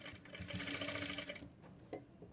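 Sewing machine stitching fabric at a tailoring table, a faint close whirring run of rapid needle strokes lasting about a second and a half, then stopping, followed by a soft click.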